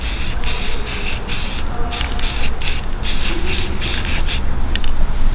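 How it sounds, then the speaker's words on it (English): A spray paint can sprays in a steady hiss with several short bursts and pauses while painting a Honda, close and loud throughout. "give it a good old spray"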